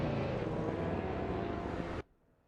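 AI-driven supercars race around the Long Beach street circuit in a video game, a loud, steady engine roar holding for about two seconds before cutting off abruptly to near silence.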